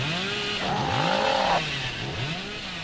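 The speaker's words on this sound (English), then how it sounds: "I've got an add-on which allows me to speed up my chainsaw charge when I get stunned" Billy's chainsaw in Dead by Daylight revs and charges with a steady droning buzz, its pitch surging in repeated swells, loud and close with no talking over it.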